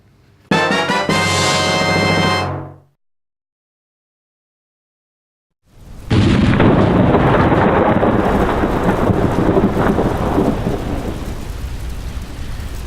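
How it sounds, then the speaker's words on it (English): Heavy rain pours steadily over a camp on a dark night, with rumbling thunder. A loud, dense roar fills the second half, following a short tonal sound and a few seconds of silence. "The night was dark, and there was a heavy rain pouring on the camp."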